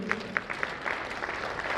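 An audience at a women's honour awards ceremony applauds with scattered claps that come through distinctly at first, then blur into a soft continuous patter, fairly faint and brief.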